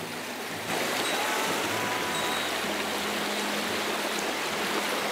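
A summer mountain stream flows in a steady, dense rush of water, close and continuous, starting abruptly after a brief quieter moment and holding constant to the end.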